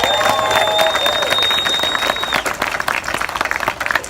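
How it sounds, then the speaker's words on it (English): An audience at an event for young activists gives a round of applause, thick and continuous clapping held loud and close, with a faint tone and brief voices mixed in. "Can we just give them another round of applause,"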